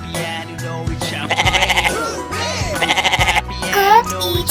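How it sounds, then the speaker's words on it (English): A farm goat bleats in a few wavering, vibrato calls over a bouncy children's song with singing and music playing throughout. "Goat eats grass."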